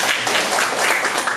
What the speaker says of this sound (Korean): 큰 박수로 학생들을 맞이하겠습니다.